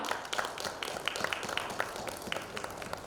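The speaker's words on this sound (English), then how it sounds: "Huge round of applause, everyone." Audience at an education conference in Mumbai clapping, a brief burst of scattered, fairly faint hand claps with a steady patter throughout and no talking.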